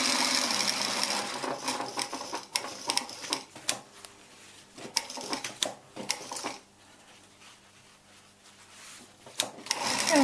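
A home sewing machine stitches a shirt collar seam, running in short bursts with brief pauses between them, close and fairly quiet, with no talking.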